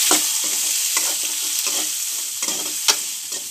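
Onion, curry leaves and green chillies fry in oil with popped mustard seeds, giving a loud, continuous close-up sizzle broken by quick stirring scrapes.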